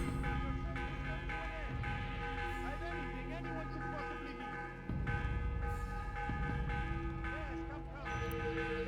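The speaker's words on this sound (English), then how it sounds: "Is the bell just gonna keep ringing?" Bell tolling in the video game Assassin's Creed (2007), repeated rings sounding over game music and ambient noise, continuing steadily throughout.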